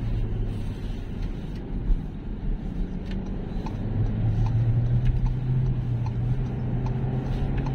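A Volkswagen Taigun GT being driven, heard from inside as a steady low engine hum and road rumble that swells slightly midway, with faint ticks and road noise over it and no talking.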